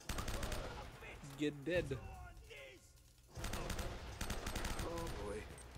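Shotgun blasts and other gunfire fill a firefight in Uncharted: Drake's Fortune, with a dense volley at the start and another after a short lull. A voiced in-game line and character grunts sit between the shots.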